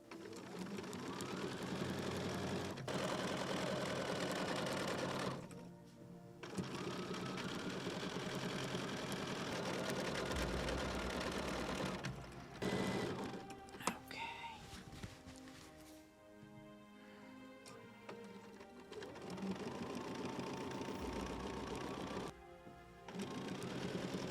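A sewing machine quilting the sashing of a baby faux chenille quilt runs in long steady mechanical whirring bursts. Brief pauses and shifts in the motor's hum break them up, heard close and without talk.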